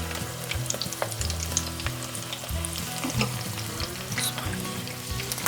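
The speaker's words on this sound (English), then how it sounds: "Sizzle, sizzle." Yucca flowers deep fry in hot oil, a continuous close crackling sizzle with scattered pops and bubbling throughout.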